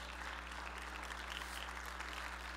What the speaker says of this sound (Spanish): Dele un aplauso al Señor, vamos.